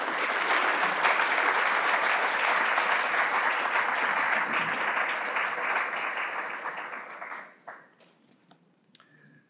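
A lecture audience gives a lecturer sustained, dense applause for about seven seconds. It then fades quickly to a few last claps, and the room goes quiet.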